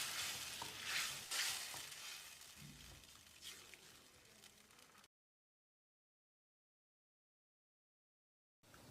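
Tomato kurma bubbles and sizzles gently in a covered pan, with a couple of louder stirring scrapes early on, then a long stretch of silence before the simmering resumes briefly.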